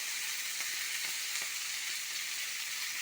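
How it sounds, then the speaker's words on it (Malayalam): Sambar spinach (cheera) sizzling in hot oil in a pan, a steady, fairly soft frying hiss with occasional faint crackles. "നമുക്ക് ആ സാമ്പാർ ഇത് എണ്ണയിൽ ഇട്ട് കൊടുക്കാം ഒന്ന് വാട്ടിയിട്ട് വഴറ്റിയിട്ട് വേണം വെക്കാം"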